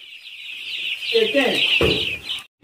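Five-day-old chicks in a poultry barn on a farm, a dense, constant chorus of high peeping from many birds close by, with a voice speaking briefly under the cheeping.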